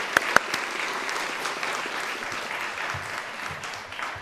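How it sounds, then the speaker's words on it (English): Steady applause for the Elliott Ranch LLC group at a Día de la Charra celebration, a dense wash of clapping from a crowd that holds at an even level throughout, with a couple of sharper claps near the start. "another round of applause for the Elliott Ranch LLC group"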